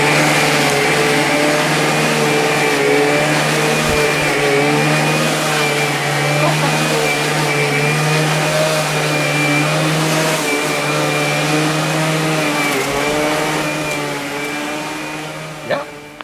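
A B&Q MacAllister cordless lithium-ion battery lawnmower runs with a steady, loud electric motor whine and hum that holds throughout, with small dips and a short clunk near the end.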